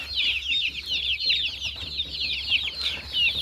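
Chicks in a compartment of a farm shed: a continuous chorus of high, rapid peeping and cheeping from many birds, close and steady, with no talk over it.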